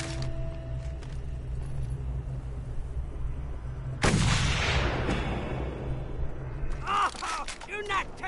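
Enemy gunfire in Mad Max bursts out as a loud crack and rumble around the fourth second, over constant engine drone and game ambience, with a voice speaking near the end.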